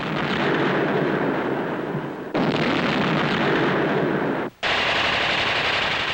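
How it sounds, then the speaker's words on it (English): Tanks fire at point-blank range in archival 1939 war footage of the fighting in Poland, heard as a dense, loud, unbroken roar of gunfire and blasts, cut sharply twice, with no voices. "this resistance is overcome by tanks firing at point-blank range and by flamethrowers"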